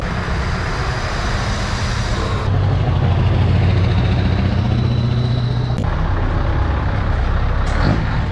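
Heavy trucks idle and rumble loudly at a busy outdoor truck show in Ciney, their engines droning steadily and rising in strength partway through, with brief sharp hissing bursts like air brakes.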